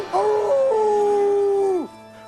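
Count Floyd, a costumed horror host rising from a coffin, gives one loud, drawn-out werewolf howl that starts with a wavering yelp, holds a steady pitch and then drops off sharply, made by a human voice imitating a wolf.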